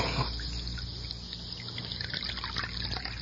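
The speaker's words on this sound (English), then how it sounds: "Let me pour you some coffee." Coffee being poured into a cup in a radio drama, a steady close trickle of liquid with soft dribbling and a faint underlying hiss.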